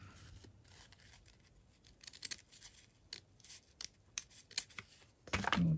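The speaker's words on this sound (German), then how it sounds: "Ich glaube, ich nehme mal eine große Schere." Large scissors snip through fabric in a string of short, crisp cuts and rubbing strokes, close up, ending in a louder rustle.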